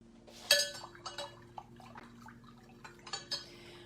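A spoon stirs coffee into water in a container, giving a few quiet clinks and taps against the sides with soft liquid swirling between them, close and unhurried, with no talking.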